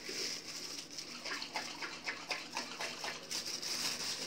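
Warm water gushes steadily into a jar of yeast starter for making Saidi fayesh, a continuous close, fairly loud splashing pour with no pauses.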